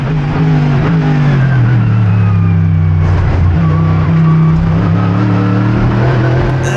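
A Mercedes AMG GT3 race car engine at Monza, loud and close as it shifts gears, with steady high revs that break briefly at a gear change before climbing again.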